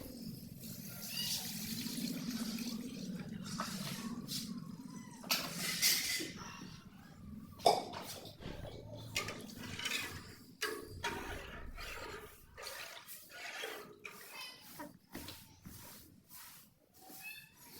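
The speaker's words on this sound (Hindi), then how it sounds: "और अब 3 किलो पानी शामिल करेंगे।" Water poured into a cooking pot for a winter vegetable biryani with peas, a steady splashing, gurgling pour that fills most of the stretch, close and moderately loud, with no talking over it.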